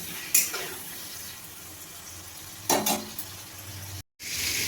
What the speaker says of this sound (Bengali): দিয়ে এবার আমি পনিরটাকে ভালোভাবে ভেজে নেব।